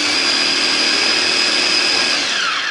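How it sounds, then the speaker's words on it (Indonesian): An electric blender grinds red curly chilies, red and green bird's eye chilies, garlic and shallots, giving a loud, steady whirring roar that slows and winds down near the end. "Tambahkan bawang putih, bawang merah. Ini mau kita giling."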